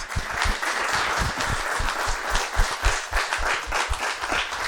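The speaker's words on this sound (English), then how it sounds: "can we just give a big round of applause?" Audience at a business panel event clapping steadily, a moderately sized room of individual hand claps blending into continuous applause, fairly close and without talk.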